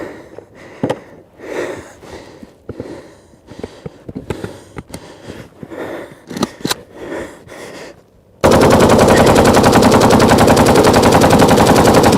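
AK assault rifle firing, first scattered single shots and short bursts, then one long, loud, uninterrupted stream of automatic fire while the gun runs hot.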